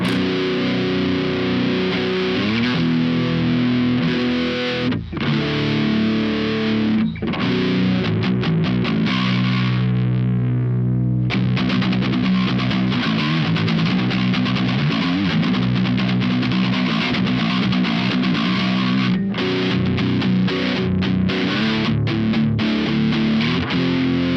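A loud, continuous electric guitar rings out in chords and single notes with a bright, clear tone and some grit, played through Fishman Fluence Tosin Abasi pickups in a bassy pickup voicing on an Ibanez GIO seven-string.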